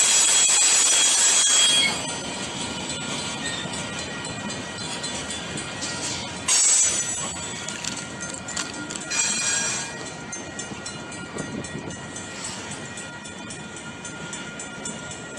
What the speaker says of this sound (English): Look at this train right there hauling dozens of tanks.